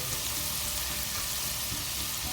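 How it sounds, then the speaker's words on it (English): Asparagus sautés with onions and ginger in a pan, a dense continuous sizzle, close and even throughout with no voices. "We saute that a little bit, because we want to get the flavor of the onions and the ginger"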